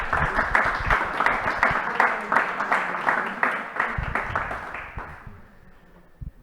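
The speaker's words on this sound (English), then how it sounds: "So I think that we deserve a round of applause for everyone." A crowd applauds with steady, energetic clapping that fades out toward the end.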